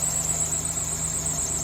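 A car engine idles steadily with the air conditioning switched on, a constant low hum and a high whine running throughout, close and unbroken, with no talk.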